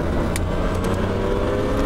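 A Porsche 997 on a driving course engine roars steadily as it accelerates, loud and close with a continuous low drone and no talking.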